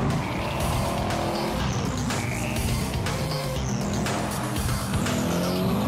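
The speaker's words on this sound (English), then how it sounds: "everyone knows I love the sound of a V8" A loud, roaring V8 engine in a Redback Spyder supercar howls continuously at high revs, with tires squealing over the top. Up close and intense, with no talking.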